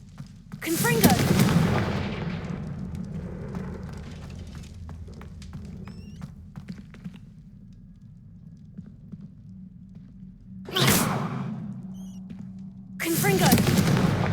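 Repeated Confringo blasting spells explode in Hogwarts Legacy: a loud booming burst early on, a low rumbling lull with clicks, then two more sharp blasts near the end over a steady game hum.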